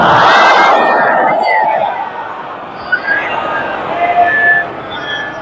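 A congregation at an imambargah in Dera answers together with salawat during a Safar majlis. A loud, massed chorus of voices swells, then thins into a scattered crowd murmur with a few individual calls.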